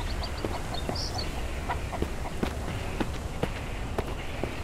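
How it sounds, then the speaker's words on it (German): A chicken scurries around in the survival video game Mist Survival, with quick, light running steps and scattered clucks over a steady background of game ambience. "Da rennt noch ein Huhn rum."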